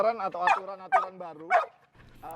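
A caged dog gives a string of close, loud, whining barks and yelps, three or four rising cries in quick succession with brief pauses, then a short low grumble.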